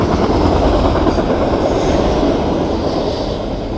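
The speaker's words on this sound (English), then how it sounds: "Softail Slim got to officially catch herself a train." A train rumbles past close by, a dense, loud roar of wheels and rattling cars that stays steady before easing off slightly at the end.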